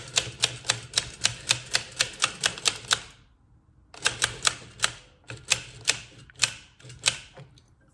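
A circular sock knitting machine is cranked by hand and gives rapid, evenly spaced clicking ticks up close. The clicks break off briefly in a short pause, then carry on at the same steady rhythm.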